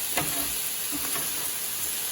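Cabbage and green onion sizzling steadily in a hot pan with residual pasta water for stir-fry noodles, a constant close frying hiss with a few faint stirring scrapes.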